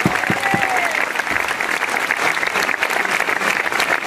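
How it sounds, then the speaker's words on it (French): Dense, steady applause from a large crowd at a Nîmes bullfighting festival gathering, honouring young bulls, with a few louder claps at the start and a continuous wash of clapping throughout. "qu'on peut applaudir très fort"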